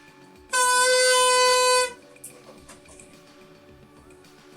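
A homemade wind instrument made from a small PET plastic bottle is blown once, producing a loud, bright, horn-like tone with strong harmonics that holds for about one and a half seconds, then stops abruptly.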